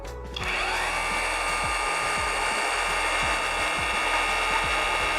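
Cordless CRH26 rotary hammer spinning in plain drill mode, a sharp start-up into a steady high motor whine with a constant buzz, close and loud throughout.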